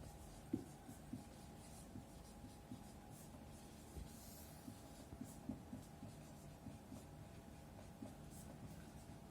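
Chalk or marker tapping and scraping on a board during a Class 9 maths lesson on triangle angles, faint intermittent strokes over a low steady hum.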